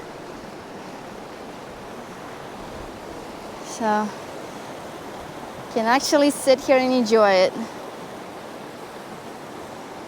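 The Carson River rushes steadily near hot springs soaking tubs, a constant broadband wash of flowing water filling the background while a person speaks briefly over it.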